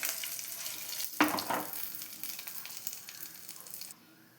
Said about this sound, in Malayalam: ഇനി തീ ഓഫ് ആക്കിയതിന് ശേഷം ഒരല്പം മുളക് പൊടിയും കൂടി ചേർത്തൊന്ന് മൂപ്പിക്കാവേ